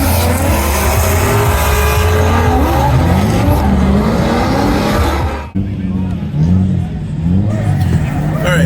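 Drift cars and burnouts at a car show produce loud, continuous tire squeal over roaring, revving engines that rise and fall, close by and steady throughout with a brief dip near the end.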